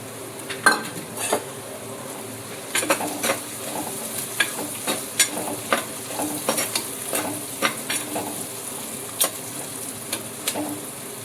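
Green chillies fry in a pan, with a soft sizzle under repeated scraping and clinking as a spoon stirs them, the stirring coming in irregular bursts close up, no one speaking.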